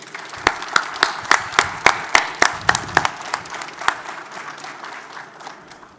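A small audience at the GWO Safety and Training Awards 2021 gives scattered, distinct handclaps, sharp individual smacks at first that grow sparser and fade over a few seconds.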